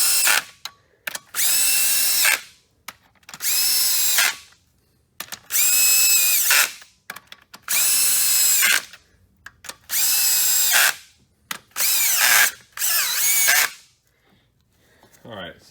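A power drill whirs on a 2011 Chevrolet Malibu 2.4L engine during head gasket and timing chain work, loud repeated bursts of a second or so each, seven in a row separated by short pauses.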